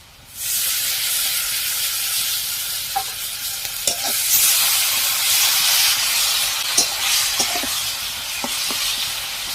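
Ginger, garlic and cumin paste frying with onions in a pan, giving a loud, continuous sizzle and hiss close by, with a few scattered soft clicks from stirring.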